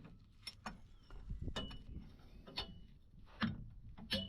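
Wrench work loosening the transmission sump bolt on a Willys Jeep: faint metallic ticks and ratchet-like clicks with a couple of sharper knocks, soft and close over a low rumbling background.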